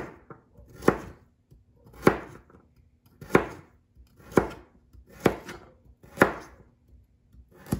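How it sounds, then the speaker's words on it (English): A knife quarters carrots on a board in seven sharp, evenly spaced chops, each loud and close, with near silence between strokes. "now what I'm doing is I'm quartering these carrots"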